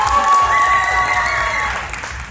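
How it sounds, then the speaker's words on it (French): Crowd at a French strength competition applauding an athlete, with cheering and a few whoops, fairly loud and steady for a couple of seconds. "On l'applaudit."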